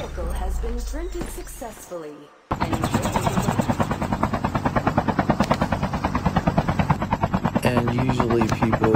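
A video-game helicopter's rotor thumps in a fast, even chop, loud and close, starting abruptly after a brief stretch of other game sound and holding steady to the end.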